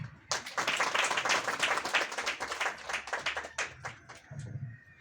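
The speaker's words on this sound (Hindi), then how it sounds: "आप लोग से थोड़ा सा रिक्वेस्ट है कि हाथ ताली के साथ उनको स्वागत करेंगे" Audience applause rings out at a stage event in Giridih as someone speaker is welcomed up, dense sustained clapping that tapers slightly toward the end, with no talk over it.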